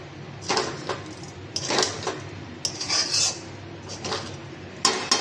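Food in a cooking pot is stirred with a utensil, giving bursts of scraping and clinking against the metal in short irregular strokes, close and fairly loud, with pauses between.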